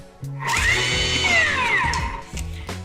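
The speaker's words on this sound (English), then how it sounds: "just pop it back on the Thermomix and quickly whiz it up to speed 9" Thermomix blender whizzing a lemon herb feta cheeseball mixture at speed 9, a short, loud burst of high whirring that swoops up and then winds back down, alone with no talking.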